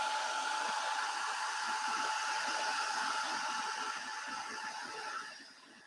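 A hair dryer blows over a freshly coloured pencil page, a loud steady whooshing hum at close range that drops away near the end as it is switched off.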